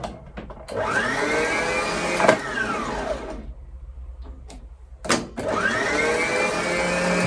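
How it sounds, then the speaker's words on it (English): A sewing machine winds a bobbin in two bursts of rising motor whine with a quiet pause and a click between them, running close and loud. "your bobbin is winding nice and even top to bottom as well"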